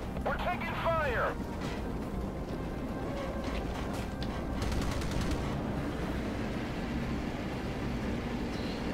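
Naval and air combat in Battlestations Pacific on a volcano map: rapid gunfire rattles in the background beneath a continuous rumble, with short tonal game signals and a voice speaking over the action.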